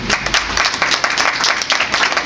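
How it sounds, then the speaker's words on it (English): A crowd applauds steadily, dense clapping from many hands filling the whole stretch at close range. "Can you give yourself a round of applause?"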